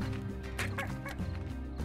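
Chickens in the video game Slime Rancher cluck in a busy, continuous chatter, close and moderately loud, with no speech.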